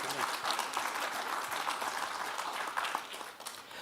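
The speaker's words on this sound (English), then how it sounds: "Please give them a big round of applause." Conference audience applauding a panel of speakers, steady soft clapping from a roomful of people, fairly distant and even before tailing off at the end.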